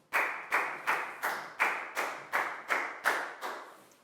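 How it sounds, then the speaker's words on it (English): Slow, evenly spaced claps ring out about twice per second, roughly ten in a row, with no talking. "a big round of applause for Net."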